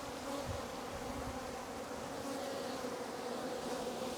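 A swarm of honeybees hums in a steady, dense, continuous drone, close and even throughout, with no voices.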